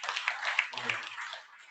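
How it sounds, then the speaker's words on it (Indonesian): An audience applauds a speaker at an Indonesian Batak youth gathering in Aceh: a short burst of dense, steady clapping from a room of people that fades out after a second and a half. "Berikan tepuk tangan kepada beliau."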